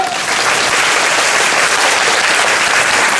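Theatre audience applauding loudly and steadily at a post-show talk for the play Trainspotting, a dense, sustained wash of clapping filling the whole stretch.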